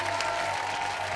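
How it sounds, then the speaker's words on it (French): Brief burst of studio audience applause on a French Christmas game show, a steady wash of clapping lasting only a moment. "On applaudit fort, Marion."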